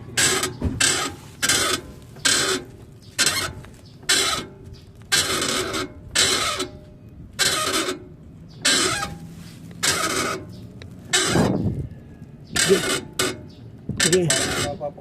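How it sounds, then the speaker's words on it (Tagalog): Repeated loud creaking, grinding bursts from a stiff steering wheel being turned on a Mitsubishi L300 van, each lasting under a second, coming in a steady back-and-forth rhythm close by. "Ang problema, matigas iliko yung manibela at maingay pa."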